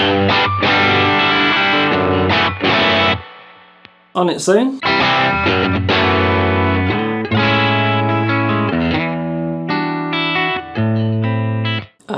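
Distorted electric guitar through an overdrive pedal in a math rock setup, loud sustained chords and ringing notes with a brief gap and quick sliding squeal midway, plus a short spoken phrase.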